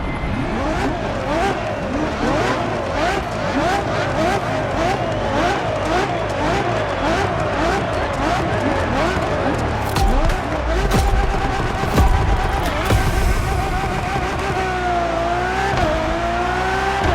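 Ferrari Enzo engine in The Crew Motorfest racing game, loud and continuous with rising and falling revs through gear changes, over a steady game backdrop, with a brief tire squeal near the end.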